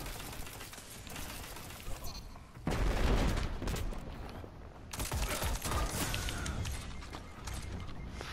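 Scout rifle gunfire in a video game, heavy bursts of shots that swell in the middle and return in a dense volley after a brief lull, loud and close.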